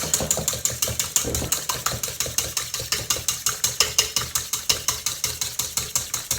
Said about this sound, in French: Donc je mélange, je fouette.